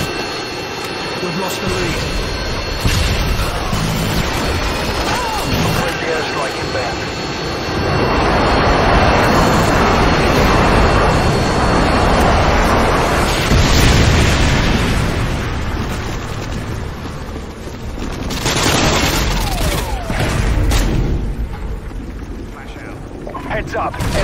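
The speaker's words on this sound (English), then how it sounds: "Airstrike standing by." Call of Duty Modern Warfare 2 airstrike on the Underpass map, with jets roaring past and explosions booming in waves over steady in-game gunfire, plus a brief radio voice.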